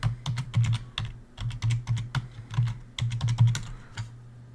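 A password is typed into a computer terminal as a run of close, crisp keyboard clicks in uneven bursts with short pauses between them.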